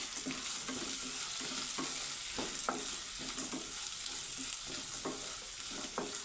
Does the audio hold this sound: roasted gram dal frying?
yes